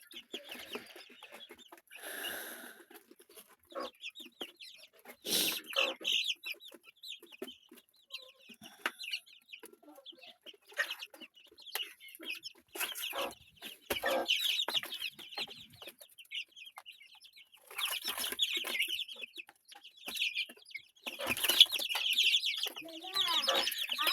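Newly hatched quail and chicken chicks give high, thin peeps in scattered bursts close by, with clucking-like calls and a voice speaking in between.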